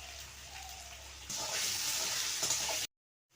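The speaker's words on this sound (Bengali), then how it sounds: "পরিমাণ মতো একটু লবণ দিয়ে আলুটা ভেজে নেব।" Potatoes seasoned with a little salt fry in oil in a kadai, a steady close sizzle that swells louder partway through and then cuts off abruptly.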